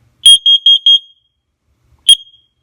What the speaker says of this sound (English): And you can hear the beep right there, how loud it can be.